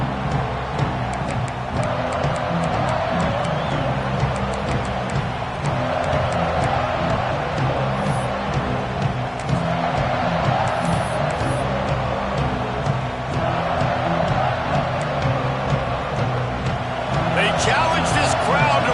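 A stadium crowd at a Nebraska vs Iowa football game keeps up a steady, dense roar and cheer through the whole stretch, distant and even, with an announcer talking over it at times.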